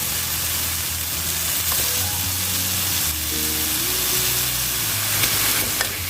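Featherback fish balls are tossed into a spicy stir-fry with garlic and chili, producing a loud, continuous close sizzle with faint stirring clatter and a couple of small pops near the end.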